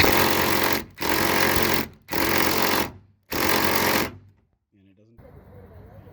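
A Ridgid power drill with a T50 Torx bit works on the hood vent screws of a Jeep Wrangler Unlimited JK, giving four loud, close bursts of rattling, hammering whir separated by short pauses, then quiet with a faint voice at the end.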